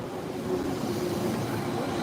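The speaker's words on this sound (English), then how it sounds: "here comes a more modern train" Modern train pulling into a busy Zurich railway station, a steady low rumbling roll with a faint sustained tonal hum, moderately distant amid station ambience.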